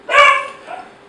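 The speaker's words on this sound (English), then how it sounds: "That's the guest appearance by one of my dogs, the crazy one." A single sharp bark from a pet dog, loud and close, tailing off into a brief whine.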